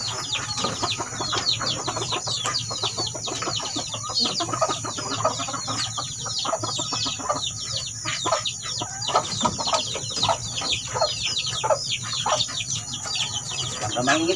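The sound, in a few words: labuyo breed chicken, young hen, clucking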